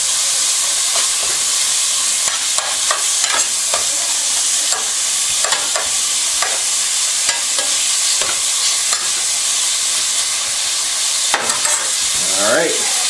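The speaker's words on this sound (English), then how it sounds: "we're going to take our beef, our steak that we cut up into little strips, and we're going to pop it in there." Strips of steak sizzle loudly in a hot pan for a beef and broccoli stir-fry. A steady, dense frying hiss runs throughout, broken by scattered pops and faint scraping.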